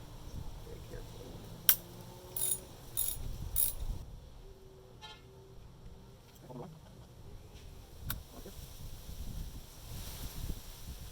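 A ratchet with a 10mm socket backs out the ignition coil pack bolts on a 2006 Nissan Altima 2.5 S engine. Sparse, sharp clicks sound close up over a quiet background.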